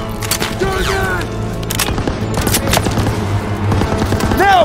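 Sustained machine gun fire in the World War II shooter Call of Duty WWII, dense rapid bursts and booming shots layered in a loud, chaotic battle din with overlapping clatter.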